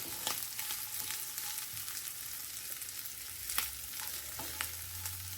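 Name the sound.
hamburgers sizzling on the grill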